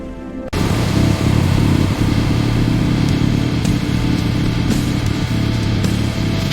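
A restored Harley-Davidson motorcycle rides past with a steady, loud engine drone that holds throughout after a sudden start, with faint clatter mixed in and no talking.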